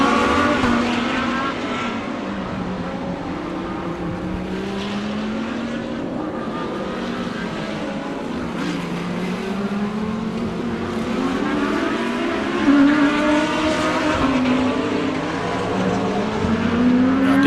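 Porsche and Lamborghini race cars roar around Dezzi Raceway, a continuous loud engine drone with rising and falling revs as cars pass and chase each other through the lap.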